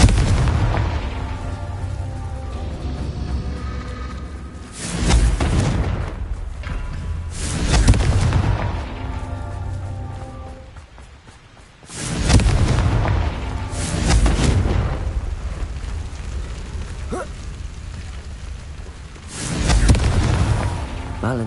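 Confringo fire-spell blasts in Hogwarts Legacy: a series of heavy booming explosions, about five, spaced a few seconds apart, each a loud burst decaying into rumbling ambience.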